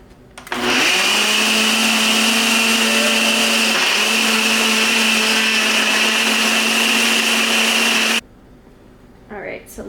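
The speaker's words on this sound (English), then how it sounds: "the type of blender I use is the Ninja" A Ninja 1-cup blender whirs loudly and steadily for about seven and a half seconds while blending a matcha, spinach and kale shake, then cuts off abruptly.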